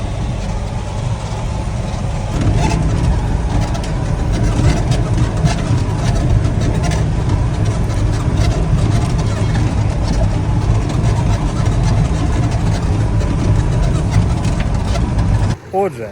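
A 140 hp John Deere tractor pulling a 3 m Lemken Karat 10 cultivator across stubble at about 14 km/h: loud, steady engine drone with rumbling low-end throughout, a person talking over it, ending abruptly.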